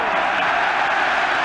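A football stadium crowd roars approval at a touch by the England captain during a Denmark versus England match, a broad continuous crowd noise with scattered clapping under a commentator's voice.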